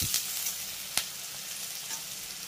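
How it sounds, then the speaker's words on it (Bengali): Diced potato sizzles in very hot mustard oil, a dense steady crackle with a few sharp pops and stirring scrapes, close and without talk. "তারপরে তেলটা যখন খুব ভালোভাবে গরম হয়ে যাবে তখনই আমি এর ভিতরে অ্যাড করব মিডিয়াম সাইজের একটি আলু"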